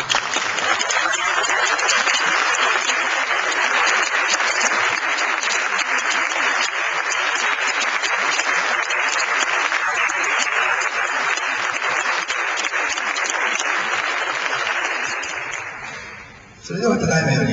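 An audience at a 2012 Okayama gubernatorial election manifesto debate applauds as the panelists enter: dense, sustained clapping from a large crowd, loud and steady for about sixteen seconds before fading out.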